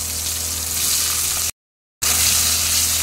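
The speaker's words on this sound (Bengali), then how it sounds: "পেঁয়াজগুলো ভেজে নিচ্ছি" Onions frying in oil for a Bengali goat-meat curry, a steady close sizzle that cuts out to silence for half a second and then resumes.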